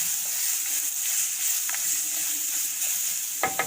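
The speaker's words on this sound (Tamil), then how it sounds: "இப்போ நம்ம கருவேப்பிலை போட்டுடலாம். இதே வதக்கிக்கலாம் நல்லா." Curry leaves sautéing in a clay pot make a steady, close hiss of frying, ending in a couple of sharper scraping stirs.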